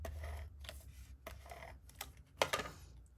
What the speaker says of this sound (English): Just a little bit of tape runner,